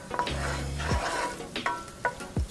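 Shallots and garlic sizzle in heating oil with a soft, close crackle, broken by a few quick stirring scrapes and clinks of a utensil against the pan.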